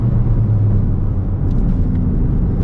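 A 2023 Toyota GR Corolla engine on a race track drones at low revs in fourth gear, a steady low rumble from inside the cabin with no talk over it.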